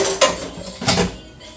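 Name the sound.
spooning oil out of a cooking pan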